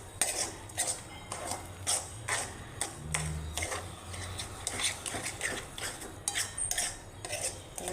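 A metal spoon scrapes and clinks against a kadhai as semolina halwa cooks with sugar and ghee, in a steady run of close, rhythmic stirring strokes with no talking.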